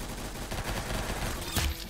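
Video game gunfire in Arsenal crackles in quick bursts, with rapid shots layered over a dense mix of game sounds and a louder blast near the end.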